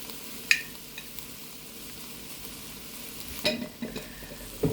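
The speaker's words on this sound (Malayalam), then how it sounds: "എന്നിട്ട് നല്ലപോലെ പൊടി ഒന്ന് മൂത്ത് വരുന്നവരെ ഇളക്കി കൊടുക്കാം" Spice powders (turmeric, chilli, meat masala and coriander) stirred as they fry in a pan for a pork roast, a soft steady sizzle with scattered spoon scrapes and a few louder clinks toward the end.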